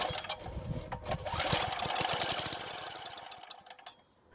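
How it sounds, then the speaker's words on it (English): Small Craftsman edger gas engine sputtering to life after a rope pull, giving a loud, rapid popping rattle that runs for a couple of seconds and then dies away to quiet. "the engine actually started and ran for a second"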